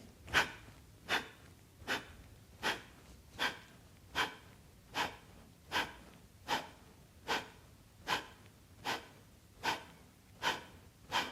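Rapid, rhythmic forced exhales through the nose in a Breath of Fire breathing exercise, about fifteen evenly spaced sharp puffs at roughly one per second, close and alone with no talking.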